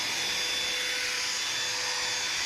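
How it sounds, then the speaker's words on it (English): A CHI Home 2-in-1 steam vacuum runs with its vacuum motor on, a loud continuous airy whir and hiss held steady throughout, close by with no voices. "And then we're just going to turn our vacuum motion on."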